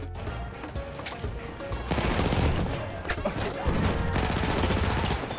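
Dense, loud gunfire in the World War I shooter Battlefield 1, sustained rapid shots and bursts that thicken after the first couple of seconds, with no voice over it.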